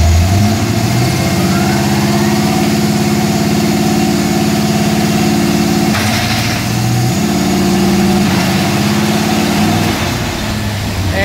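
An engine drives an ATI Max Duty T400 transmission with a bolt-together lockup converter on a dyno through a 1-2-3 shift and lockup, a loud steady drone with one clear shift break midway.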